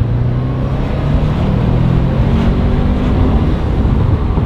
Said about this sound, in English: let's build boost in second gear.